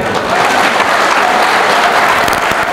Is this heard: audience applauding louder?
yes